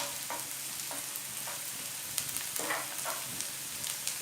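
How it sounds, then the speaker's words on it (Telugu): Onions and ginger frying in a pan, a soft steady sizzle with intermittent stirring scrapes and light clinks at close range, no talking. "ఈ ఉల్లిపాయలు కొంచెం దోరగా వేయించుకోవాలి. వేయించుకున్నాక అల్లం వేయాలి."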